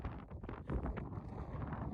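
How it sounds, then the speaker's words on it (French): Cold, salty wind gusts outdoors at a salt works, a soft continuous rumbling buffet across the microphone with brief louder surges and no talking. "il y a un petit vent salé"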